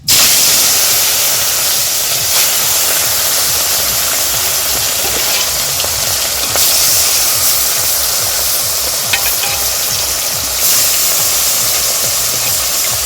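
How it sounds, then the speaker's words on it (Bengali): Fish pieces frying in hot oil in a home kitchen, producing a loud, steady broadband sizzle that goes on without a break for the whole stretch and carries no voices. "তেলটা গরম হয়ে গেছে তো দেখি এখন মাছগুলো দিয়ে দেবো"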